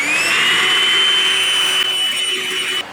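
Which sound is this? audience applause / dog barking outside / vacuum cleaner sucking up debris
vacuum cleaner sucking up debris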